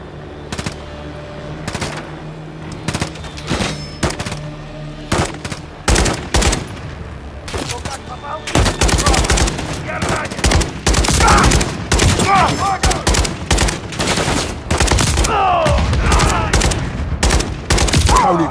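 A Call of Duty: Modern Warfare 3 firefight in frozen tundra, with dense rattling machine-gun bursts and single gunshots that start scattered and grow into a loud, relentless fusillade, a voice briefly shouting amid the fire.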